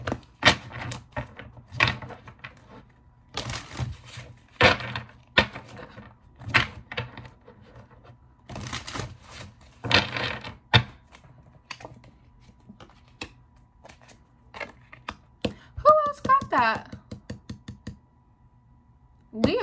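A deck of oracle cards being shuffled by hand gives quick, crisp riffling and tapping bursts in an irregular rhythm, close and fairly loud, with a few faint voices in the background.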